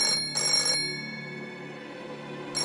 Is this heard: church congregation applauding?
no